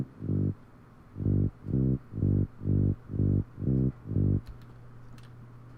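Automated bass line from a tech house track playing on its own: eight deep, rounded pulses in a steady rhythm after one opening note, fairly loud over a low hum, ending with faint clicks.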